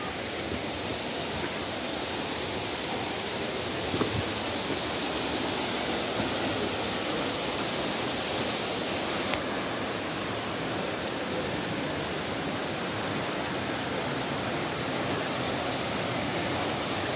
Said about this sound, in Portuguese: Vamos tentar acessar o meio da cachoeira aqui primeiro